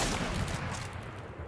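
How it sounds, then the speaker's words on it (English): Gunfire from a Fortnite No Build match: a quick burst of rapid shots, loud and dense, with no voice over it. "Still a lot of gunfire to be going down on that side, though."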